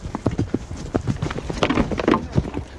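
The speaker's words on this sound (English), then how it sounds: "I can get the horse to punch through them and really get into those" Horse hooves clip-clop in quick, irregular beats during a cavalry charge against shield-bearing soldiers, several hoofbeats overlapping at close range with some rustle and voices in the background.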